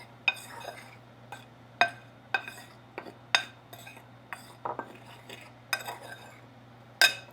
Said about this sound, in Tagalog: Lagay tayo ng konting chicken powder. Para may lasa. Ayan. Haluin natin.